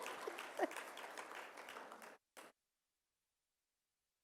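A symposium audience at a youth mental health event breaks into applause, a dense wash of clapping that fills the first two seconds, then cuts off abruptly, with one short final burst before silence.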